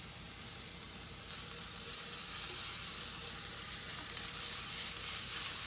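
Garlic sizzles steadily in hot oil in a pan for tuna pasta, with a constant bright crackle of frying and a spatula keeping it moving, close and fairly loud with no talking.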